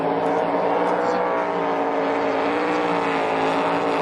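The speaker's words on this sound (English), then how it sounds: "I think I heard that kid grabbing gears there." A NASCAR Cup Series race car at the Toyota Owners 400, a continuous loud engine drone with wavering pitch as it works through the gears.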